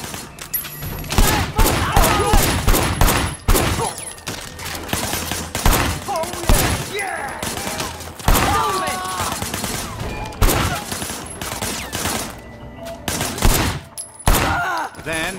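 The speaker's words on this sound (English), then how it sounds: "Shooting at the guys over there." Dense, rapid bursts of gunfire from a shootout in a Sleeping Dogs cutscene, loud and continuous with overlapping shots, thuds and mixed game sounds throughout.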